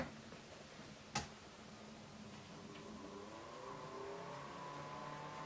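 Cooler Master Nepton 240M radiator fans run steadily on their own, a continuous motor hum with faint tonal whine, and one short sharp click partway through.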